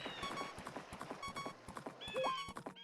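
Epona, the horse in the video game The Legend of Zelda: Majora's Mask, galloping with steady, rapid hoofbeats and a brief whinny near the end, over game music.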